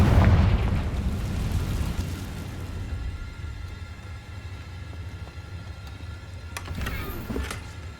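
Confringo fire spell blast in the Hogwarts Legacy video game, a loud booming burst at the start that rolls off into a long rumbling decay with faint crackles later.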